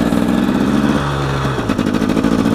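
An enduro motorcycle's engine labours on a trail, a steady strained drone with a held tone that dips and shifts partway through, loud and close throughout.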